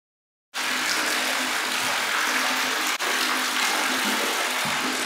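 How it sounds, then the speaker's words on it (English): Water gushing steadily into a well water storage tank, a loud continuous rushing pour that starts abruptly after a brief silence and holds without a break. "Jared just showed you a shot of the water filling the tank."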